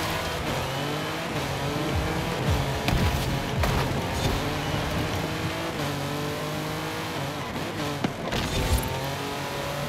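A car in the racing game Forza Horizon 5 drives hard and loose, its engine revving and straining continuously near and loud, with tire squeal and a few abrupt knocks as it handles a sharp corner.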